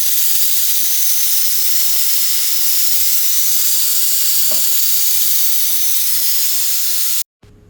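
A curry bubbles and sizzles in a pot on the stove, a steady loud hiss of boiling with a faint knock partway through before the sound cuts off abruptly.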